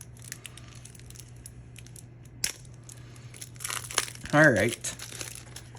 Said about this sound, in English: So we're just going to go ahead and peel that back a little bit. And unwrap that if we can.